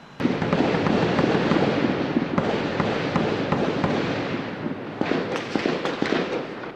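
Gunfire in a shootout between armed criminals and soldiers near Rocinha, heard as a dense, continuous crackle of rapid shots with sharper reports near the end, moderately loud and distant-sounding.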